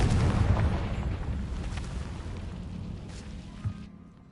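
A Confringo fire spell goes off in a PS4 game, a loud, broad blast that rumbles on for about four seconds with a smaller pop near the end before fading out.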